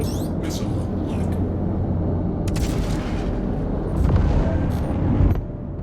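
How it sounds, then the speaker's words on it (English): Salvo of missile explosions in a space combat game, dense rumbling blasts and booms layered continuously, swelling louder near the end before cutting off. "Maybe try out salvo missiles into them too"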